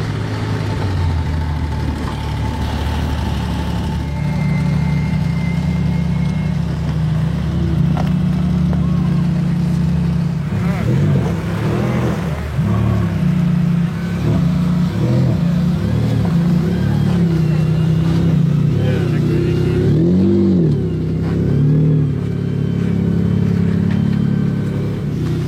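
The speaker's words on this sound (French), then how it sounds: "Maserati MC12 les amis. Même moteur que la Ferrari Enzo." A Maserati MC12, whose engine is shared with the Ferrari Enzo, driven on ice: a loud, steady engine drone with repeated revs rising and falling, heard close, with a voice now and then over it.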